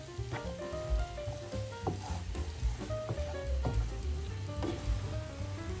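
Sautéed vegetables fry in a pan while being stirred, a steady close sizzle broken by repeated scraping and clattering of the spoon against the pan, with no voices.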